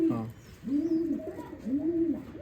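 A pigeon in a loft gives soft, low, rounded coos, three drawn-out calls in slow succession at close range, with faint background noise.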